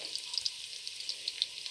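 A soft, steady sizzle of onions frying in oil, with small scattered pops and crackles throughout.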